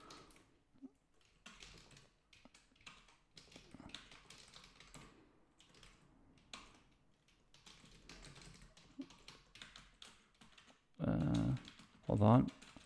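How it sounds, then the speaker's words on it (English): Rapid clicking keystrokes on a computer keyboard run through the stretch in uneven bursts, with a brief louder thump of noise near the end. "Hold on, I'm typing."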